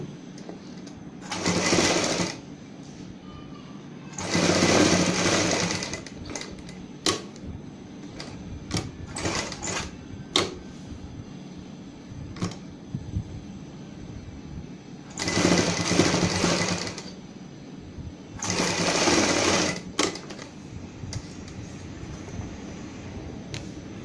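A sewing machine stitches triangle-shaped pieces onto a blouse back neck in four loud, close bursts of steady whirring, separated by quieter handling clicks and rustles.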